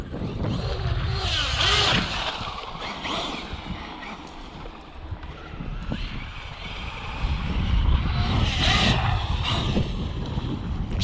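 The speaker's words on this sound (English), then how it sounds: "This is how the UDR is supposed to be driven." A Traxxas UDR radio-controlled desert truck being driven hard outdoors, its motor whine surging and fading with steady wind and gravelly rumble, swelling louder toward the end.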